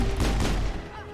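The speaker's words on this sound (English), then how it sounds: "Yeah, explosion." A brief, heavy explosion booms in the video game Mass Effect, a loud low-end burst with crackling debris that fades quickly within about a second.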